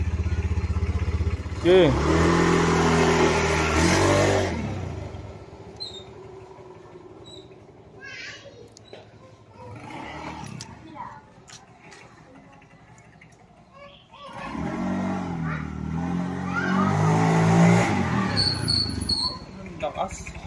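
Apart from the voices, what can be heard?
Honda Beat scooter revving on a test drive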